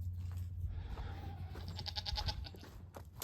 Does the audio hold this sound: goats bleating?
yes